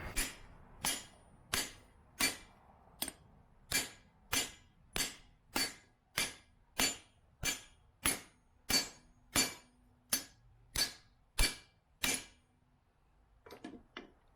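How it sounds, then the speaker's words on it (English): Steady hammer blows on a metal plug inside tubing ring out one after another, about twenty evenly spaced metallic strikes, loud and close, ending with a few softer knocks. "I'm just going to give it a few blows with the hammer"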